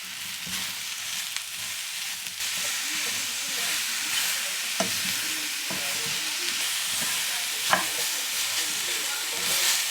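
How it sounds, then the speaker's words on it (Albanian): About 700 grams of mushrooms fry in a pan with garlic and salt, giving a continuous, close sizzle with occasional sharp clicks and spatters; no one speaks. "Kërpudhat të skuqen"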